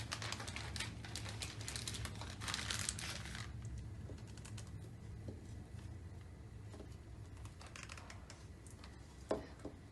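Churro dough made from flour is pushed into a plastic bag, giving soft crinkling and rustling that is denser at first and then thins to sparse handling noises over a low steady background hum.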